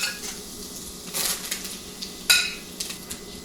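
Peppercorns fry in hot ghee in a kitchen pan, a close, soft sizzle and crackle with a few sharp pops and light clinks of a utensil against the pan.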